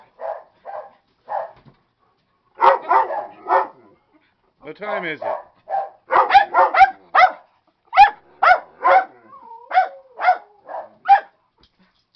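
Several dogs bark in quick repeated bursts, some yipping, close and loud, with a brief spoken question mixed in.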